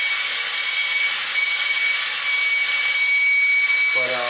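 A soldering torch roars in a steady, close hiss while heating a shower faucet stem, with a faint low sound creeping in at the end.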